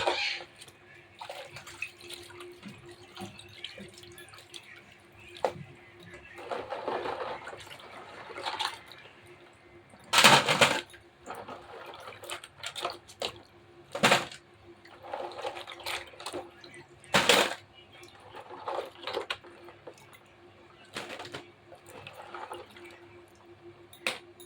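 Food is swished and rinsed by hand in a bowl of water, producing intermittent close splashes and drips, with a few louder sloshes amid quieter pauses.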